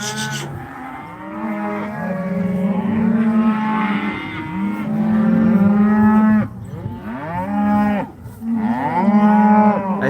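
Cattle, a cow and her calf, moo loudly and close up during a roundup for pinkeye treatment, with long overlapping bellows running almost continuously and only brief pauses between calls.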